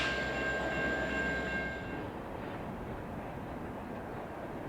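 CN local freight L536 eases into Kirk Yard near Pine Junction, a steady rail rumble with a faint sustained whistle-like tone that drops away after two seconds, leaving a softer continuous roll.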